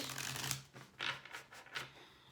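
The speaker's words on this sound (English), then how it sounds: "I'm going to give this deck one more quick shuffle and a cut" Tarot deck being shuffled by hand, a few quick riffling bursts of card flutter with short pauses between, close and fairly quiet, with a low steady hum underneath.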